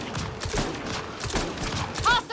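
An oddball weapon in Mass Effect Andromeda fires a quick string of muffled, thumping shots in an irregular burst, mixed with game effects and a brief electronic chirp near the end.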